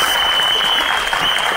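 Dense, steady audience applause fills a teaser launch event for the film 120 Bahadur, broadband clapping holding loud and unbroken, with a faint constant high tone running beneath it.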